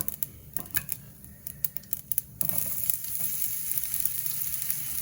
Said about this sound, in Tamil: போட்டுட்டு லேசாக அதை கிளறி விடுவோம்